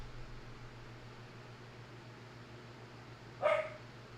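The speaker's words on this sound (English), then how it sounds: "This dog." A dog gives a single short bark near the end of an otherwise quiet indoor stretch, heard over a low steady fan-like hum.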